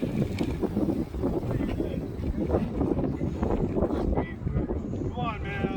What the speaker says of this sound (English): Wind is not your friend today.